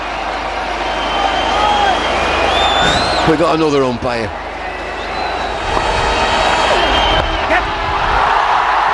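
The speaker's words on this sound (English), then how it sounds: "Dancing, whistles, singing." A cricket crowd at an India versus England Test match roars, whistles and sings in a sustained wash of noise, with shrill whistles rising above it and a commentator talking over it.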